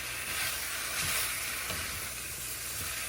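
Chopped apples hit a hot pan of frying ginger, raising a steady close sizzle with faint stirring scrapes underneath, unbroken for a few seconds.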